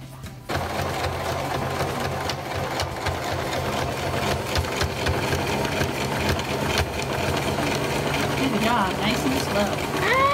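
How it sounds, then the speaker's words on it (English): A sewing machine runs steadily, zigzag stitching around the edges of a fabric sleep mask with white thread, a continuous close mechanical whir held for about ten seconds while voices talk over it. "He zigzagged all the way around the edges"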